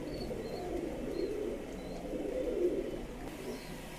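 Pakistani pigeons coo steadily in a loft, a low continuous burbling murmur of several birds close by, with faint higher chirps in the background and no talk.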